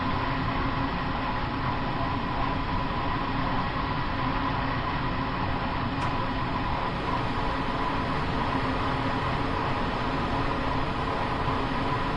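A train in the game Train Sim World 2020 on PS4 runs with a steady, loud rumble and hiss that holds constant throughout, with no talk over it.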